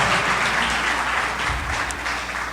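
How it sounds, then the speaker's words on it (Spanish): A church congregation applauds loudly and continuously, a dense wash of clapping that fills the space from start to finish. "Dale un aplauso al Rey Jesús."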